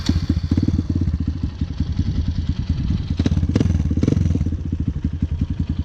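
A Kawasaki KLX150 four-stroke trail bike with a full exhaust line, ridden on a road in Indonesia, its engine thumping in a steady rapid pulse that rises and falls with throttle, close and fairly loud with no talk.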